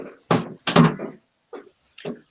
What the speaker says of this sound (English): I will pay somebody 10 quid to kill those crickets.